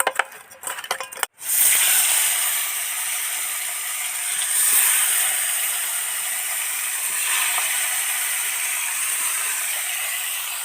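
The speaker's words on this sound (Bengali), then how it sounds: "তো মাছটারে ভালো করে ভাজা নিব" Koi fish dropped into hot oil for frying, a few sharp clatters at first, then a loud, dense, continuous sizzle and hiss that holds steady for about nine seconds.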